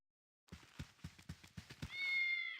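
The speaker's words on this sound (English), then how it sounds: "doing their cat stuff. Aw, they make cute noises." Cats in the video game Baldur's Gate make a quick series of short, rhythmic calls and patters, about eight pulses in a row, followed by a sustained higher-pitched whining cry at the end.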